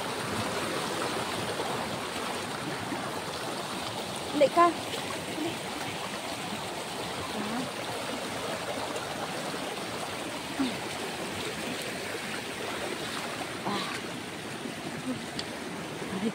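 Strong waves washing continuously at a shoreline, a steady rushing roar with brief voices speaking over it.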